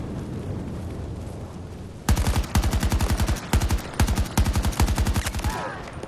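Rapid automatic gunfire in the shooter game Battlefield 2042, loud close bursts of repeated shots in quick rhythmic volleys after a stretch of low ambient rumble, with short pauses between strings.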